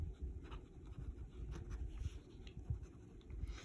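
Brush or tool sketching lines while painting with lunar paste, a faint continuous scratchy scraping close up, with no talk.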